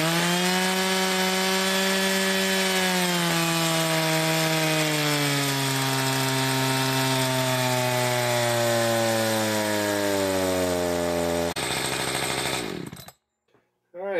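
An Echo CS590 Timberwolf chainsaw running on a dyno, a loud, steady high-revving whine whose pitch sags slowly under load before the engine cuts out abruptly, leaving a moment of silence.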